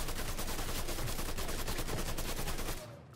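Loud, continuous automatic gunfire in the video game Mafia III, a rapid unbroken stream of shots for nearly three seconds before cutting off abruptly.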